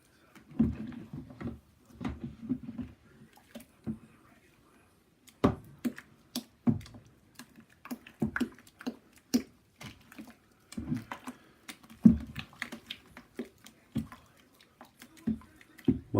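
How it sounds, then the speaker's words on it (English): A paddle stirring all-grain mash for a Bohemian lager in a brewing vessel, irregular knocks, sloshes and scrapes in bursts with short pauses between, close and fairly quiet. "me give this a really good stir. Right down in the corners."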